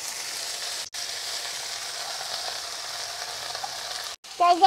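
Leaves dropped into hot oil in a Bengali kitchen sizzle and fry in a steady, loud hiss, broken by two brief gaps and a small clatter near the end.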